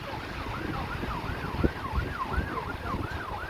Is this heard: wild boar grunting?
no